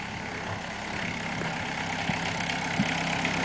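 A field car slows while driving through wet woods after rain, its engine producing a steady, close, low rumbling drone with a few faint knocks and no voices.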